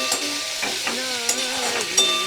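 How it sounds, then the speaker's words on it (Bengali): Broccoli and potatoes fry in a pan in a home kitchen, a steady close sizzle with brief stirring scrapes and soft hissing bursts. "এখন দেখো ভাজা করে নিচ্ছি আলু দিয়ে ব্রোকলি"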